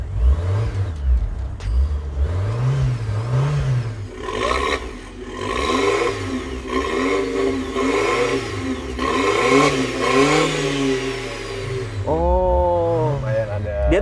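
A Wuling Almaz's engine revs repeatedly through its exhaust, rising and falling in short bursts of throttle, with a sharper rev near the end and faint voices in the background.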